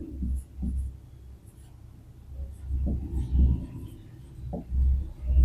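Pen or chalk writing out a maths solution on polynomials, soft scratchy strokes in short bursts, close and fairly quiet, with low murmured speech in between.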